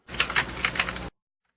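Rapid, close typing on a computer keyboard: a quick run of crisp key clacks that cuts off abruptly about a second in, followed by silence.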